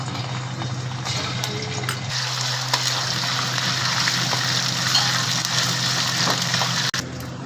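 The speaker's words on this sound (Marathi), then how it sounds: "कढाई तापली आहे आपण आधी त्यात तेल टाकू आधी आपण दोन चमचे आला लसणाची पेस्ट टाकू" Ginger-garlic paste frying in hot oil in a wok, a continuous close sizzle and bubbling hiss that holds steady throughout, with a small clatter near the end.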